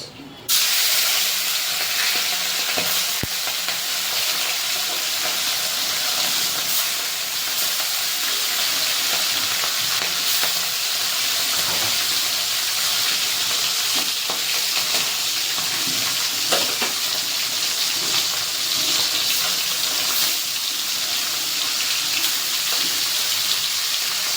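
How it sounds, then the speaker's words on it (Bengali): Puti fish coated in salt and turmeric fries in hot oil in a kadai, with a loud, dense, continuous sizzle and occasional spatter and stirring, close up throughout with no talking. "তেল গরম হয়ে গেছে, দিয়ে দেব নুন হলুদ মাখিয়ে নেওয়া মাছ।"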